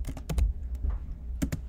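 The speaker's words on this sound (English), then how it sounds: "If we want to go back a directory, we can do this by typing CD," Clicks of a Mac computer keyboard as a terminal command is typed, a few quick close keystrokes in short uneven bursts with pauses between them.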